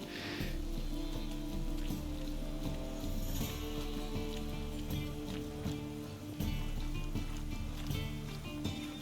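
Steady rain patters on surfaces in The Witcher 3, a soft continuous hiss with faint ambient sounds and some low muffled noises beneath.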